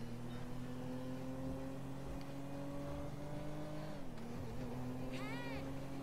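Car engine driving in GTA5, a steady loud engine hum with shifting pitch that dips once midway as the car slows, ending with a brief chirping sound.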